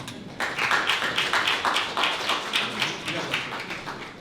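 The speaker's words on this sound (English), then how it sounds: "Another round of applause for Ken." An audience at a Jewish War Veterans Post 692 Veterans Day ceremony applauds in a steady, moderately sized round of clapping that starts abruptly and holds, with a voice faintly underneath.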